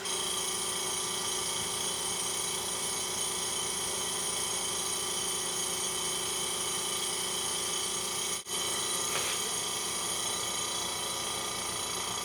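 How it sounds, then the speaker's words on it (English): A vacuum pump runs for wood stabilization degassing, giving a steady mechanical hum with a constant whine throughout and one brief dip near the end, no voices. "So we'll turn the pump on."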